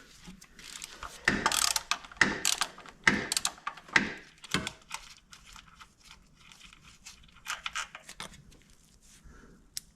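A ratchet turns out a 16mm driveshaft support bolt on a Peugeot 307cc 2.0 HDI, giving loud bursts of rapid clicking strokes early on, then lighter intermittent ticks and clatter.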